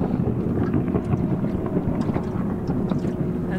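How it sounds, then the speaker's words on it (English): Powerful ski racing boat engines drone in the distance beneath heavy wind buffeting the microphone, a steady low roar with no voices. "Listen to those boats in the background. There's some ski racing going on today."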